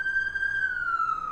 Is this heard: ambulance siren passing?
yes